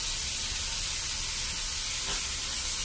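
Cut tomato pieces, some small and some large, sizzle steadily in a hot pan while carrot rice is being cooked, giving a continuous bright frying hiss with no talking.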